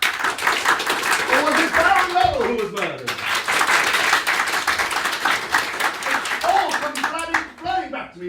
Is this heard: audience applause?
yes